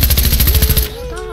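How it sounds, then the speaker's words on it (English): Rapid automatic gunfire in Fortnite, a fast loud burst of shots for most of a second, then it stops and a voice is heard briefly. "Bro, you're shooting at yourself."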